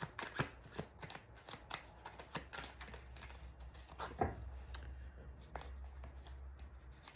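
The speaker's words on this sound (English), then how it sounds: "2 seconds ago I was shuffling the cards and like they're all kind of falling out everywhere" Tarot cards being shuffled by hand, a run of crisp riffling snaps and soft slaps at close range, with a few cards dropping loose, no voices.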